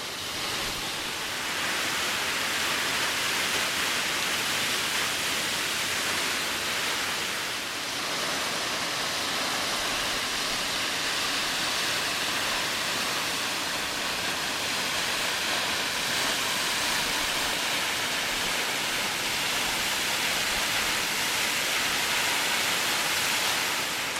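A waterfall in a Utah canyon pours steadily into pools below, making a loud, continuous broadband rush that stays close and unbroken without pause.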